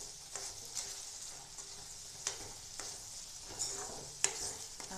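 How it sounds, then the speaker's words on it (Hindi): Boiled peas are stirred into a simmering paneer gravy, a soft, faint sizzle with occasional light spoon taps against the pan, close by and without talk. "अब हम ये अपने मटर भी इसमें मिक्स कर देंगे, जो कि पहले से हमने बॉईल किए थे।"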